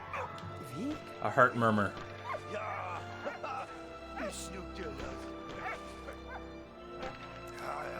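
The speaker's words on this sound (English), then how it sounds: "This dog just found his human." A dog in the video game Valiant Hearts: The Great War barks and whimpers in short yips and whines, mixed with a spoken voice and soft game music.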